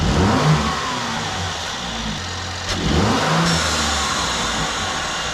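A Mercedes C43 AMG engine with BMS intakes revs loudly and close by, with a couple of throaty rising blips over an idle rumble.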